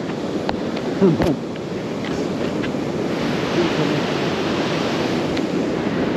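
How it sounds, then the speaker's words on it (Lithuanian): Strong wind roars steadily against the microphone with a broad rushing noise, mixed with the wash of surf on a beach at Šventoji during landkiting, close and continuous. "Truputį kyla vėjas"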